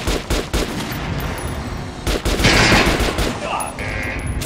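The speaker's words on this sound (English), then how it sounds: "Head over to my range and try out those guns." Guns fire at a shooting range in the video game Metro Last Light Redux, loud repeated shots and rapid bursts, close and punchy, with a voice speaking between them.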